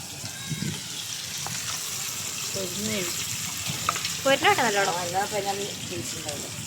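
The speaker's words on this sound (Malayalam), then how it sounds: "നമ്മുടെ എന്നാ UAE കല്ലുമ്മക്കായി പൊരിക്കുന്നു" Mussels sizzle and crackle as they fry in a pan, a steady broadband hiss with faint background voices or tones near the end.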